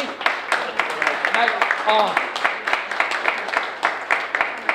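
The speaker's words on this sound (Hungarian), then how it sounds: "de azért a tapsot megérdemli" An audience claps for an honoree at an award ceremony, a dense, close patter of applause with a voice speaking over it.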